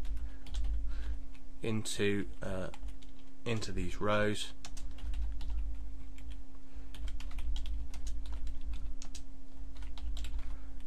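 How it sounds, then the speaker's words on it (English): Steady, rapid keyboard typing clicks run throughout, close and even, with a short stretch of someone talking over them and a faint electrical hum beneath. "We can now start typing text"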